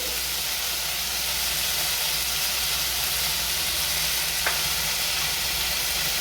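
Tomato frying in oil in a home kitchen, with turmeric added, for moong dal with curry leaves: a steady, even sizzle throughout, with one brief click partway through and no voices.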